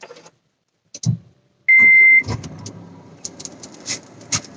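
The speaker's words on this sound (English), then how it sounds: "let me just judge the NVH by starting the engine" An MG Hector Plus with a 2-litre Fiat Multijet turbocharged four-cylinder diesel starts up: a chime sounds, a short electronic beep follows, then the engine catches and settles into a low, steady idle inside the cabin.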